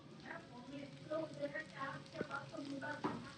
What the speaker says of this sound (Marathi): असं तेलात भाजायचं आहे